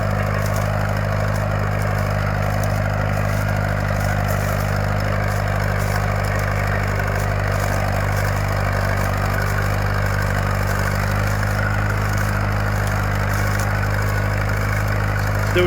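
A County Super 4 tractor idles steadily out in a field while a plough is being set up, a deep continuous diesel rumble with a strong low hum that holds even and unbroken throughout, close and fairly loud.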